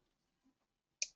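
A single crisp computer mouse click, close and dry in a quiet room, with a faint softer tick just before it.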